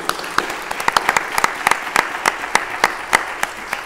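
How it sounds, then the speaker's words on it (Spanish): An audience at a presentation of the Fiestas del Carmen in Puerto de Mazarrón claps in sparse, uneven applause. Individual claps stand out sharply and close, without cheering. "Un aplauso para él."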